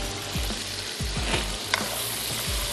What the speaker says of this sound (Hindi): मैं सिर्फ इसको थोड़ा सा भून लूँगी, लहसुन और अदरक का कच्चापन भी दूर होगा, थोड़ा सा गोश्त फ्राई हो जाएगा।